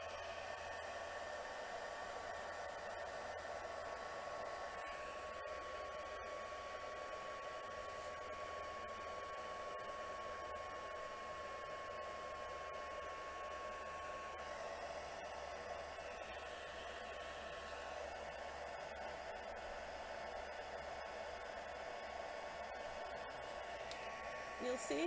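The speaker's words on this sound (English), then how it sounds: "I'm just going to heat my heat gun." Heat gun blowing steadily to melt embossing powder on a stamped image for a card, a continuous airy whoosh with a motor hum that runs unbroken and fairly near for the whole stretch.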